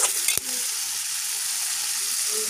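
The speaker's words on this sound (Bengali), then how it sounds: "আলুটাকে ভালো করে কষিয়ে নেব যতক্ষণ তেল ছেড়ে দেয় ততক্ষণ কষিয়ে নেবো" Chicken and potato masala sautés in oil with a loud, even sizzle throughout, set off by a sharp clack of a utensil near the start.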